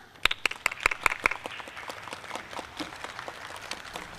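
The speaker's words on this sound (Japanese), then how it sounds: "皆様、今一度盛大な拍手をお願いいたします。" Applause breaks out at a statue unveiling ceremony, starting with a few sharp, distinct claps up close and then thinning into softer, scattered clapping from a small crowd.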